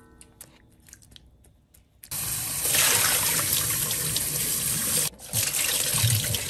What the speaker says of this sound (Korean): 브로콜리도 찬물에 바로 헹궈주고요